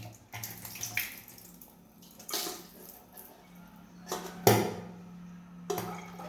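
Cauliflower is rinsed in plain water in a kitchen, with splashing pours and bursts of sloshing, plus occasional clinks of a vessel, fairly faint and without talk.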